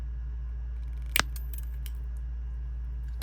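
Scissors snipping paper for junk journal jewelry, one crisp close cut with a couple of faint follow-up snips over a low steady hum, with no talking.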